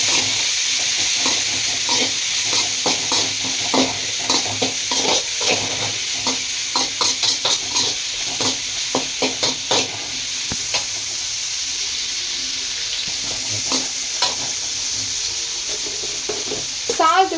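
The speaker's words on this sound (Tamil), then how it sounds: "கட் பண்ணி வச்சிருந்த தக்காளியை போடலாம் போட்டுட்டு நல்லா கிளறலாம்" Chopped tomatoes being stirred in a hot pan for Maggi noodles sizzle steadily, with a dense run of quick scraping strokes that thins out midway before a few final clatters, close and fairly loud.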